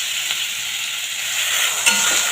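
Water hits a hot pan of frying pointed gourd and potatoes for a light pabda fish curry, producing a loud, steady, close sizzling hiss that continues with a small bump partway through.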